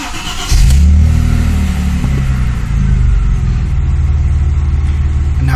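A 2003 Audi A4 with the 3.0-liter engine cranks and fires up, then settles into a loud, steady, rumbling idle close by.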